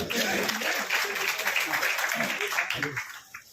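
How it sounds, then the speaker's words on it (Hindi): At an anti-corruption group's award ceremony, the audience claps steadily for the honorees while a person speaks over the applause, which thins out near the end. "यहाँ उनके सम्मान भरपूर तालियों के साथ"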